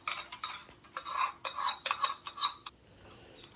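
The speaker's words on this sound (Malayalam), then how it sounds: "ഇപ്പോൾ ഇതാ നമ്മളിത് ചേർത്ത് കൊടുത്തിട്ട് നന്നായി മിക്സ് ആക്കിയിട്ടുണ്ട്" A spoon clinks and scrapes through neyyappam batter in a bowl, a quick run of irregular taps and knocks that stops abruptly near the end.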